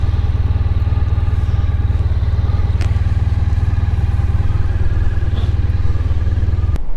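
Motorbike engine idling steadily up close while being manoeuvred into position, a constant low rumble with faint clatter throughout, cutting off abruptly at the end.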